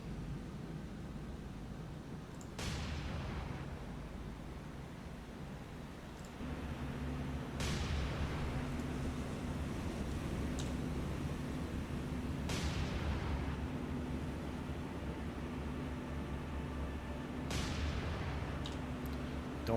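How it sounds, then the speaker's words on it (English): Naval gunfire and explosions in the warship combat game War on the Sea, a series of sharp booming blasts spaced a few seconds apart over a steady roar of engine and sea noise, with no talking. "That's good explosion."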